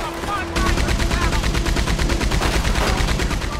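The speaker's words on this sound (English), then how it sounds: "Can we use the Gatling gun?" A Gatling gun in Red Dead Redemption 2 fires a loud, rapid, unbroken stream of shots after a brief opening moment, the bursts rattling evenly throughout.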